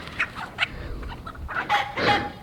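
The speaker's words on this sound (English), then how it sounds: "going after the renegade chicken" Chickens clucking on a farm, several short clucks and a rising squawk close by over light outdoor background noise, with no talk.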